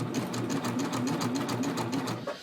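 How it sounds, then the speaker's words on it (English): A coverstitch sewing machine stitches a triple cover hem along a neckline, running in a steady, fast mechanical whir that holds evenly for a couple of seconds, close and alone. "take a couple stitches, stop, let the fabric relax, take a couple more stitches"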